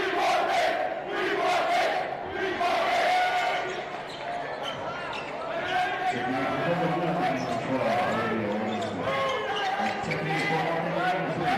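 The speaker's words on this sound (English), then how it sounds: "Newman cheering section making a lot of noise." A high school basketball crowd at Cardinal Newman's home game roars from its cheering section, a loud sustained mass of shouting voices with chants and yells, ball bounces and court noise mixed underneath.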